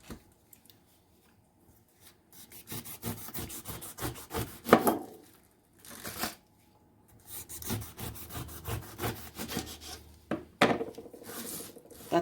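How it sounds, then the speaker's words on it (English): A knife scrapes and rasps through pineapple rind, with repeated rough rubbing and cutting strokes in irregular bursts with brief pauses, close and fairly quiet. "I'm gonna start peeling the pineapple."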